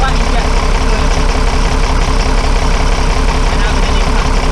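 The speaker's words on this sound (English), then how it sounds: "Take the side spanner, in this case it's 7 speed, and undo the injector. Oh, see how the engine changed tone?" A diesel engine idles steadily and loudly with a fuel injector loosened by a spanner, a dense continuous rumble with no pauses or breaks.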